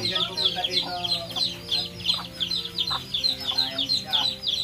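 Chickens and chicks cluck and peep continuously close by on a farm, a busy overlapping chatter of bird calls with a faint voice at times.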